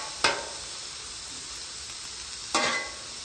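Mushrooms and onions for cheesesteaks cooking on a flat griddle give a steady low sizzle, broken by two sharp hissing flare-ups as they are turned and worked together.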